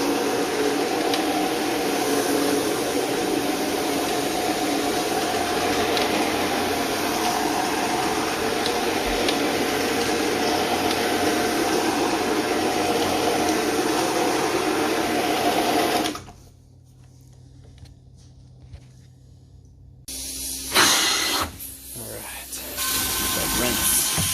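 A carpet cleaning machine rinsing a carpet runs with a loud, continuous whirring drone for about sixteen seconds, cuts off abruptly, then starts again with rougher bursts, while a person talks.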